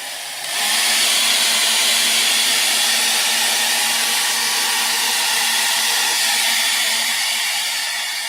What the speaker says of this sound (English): Gonna be using the hair dryer in 5, 4, 3, 2, 1.